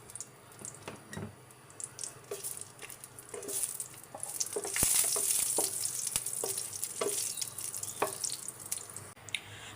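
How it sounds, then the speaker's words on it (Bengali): Dried red chillies frying in hot soybean oil, a steady close sizzle with scattered crackles and pops that swells midway, accompanied by occasional stirring scrapes and no voices. "তেলটা গরম হয়ে গেছে, এখন শুকনো মরিচগুলো দিয়ে দিলাম।"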